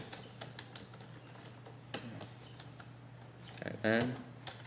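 Typing on a computer keyboard, faint scattered keystrokes clicking at an irregular pace over a quiet room. Near the end a voice briefly speaks.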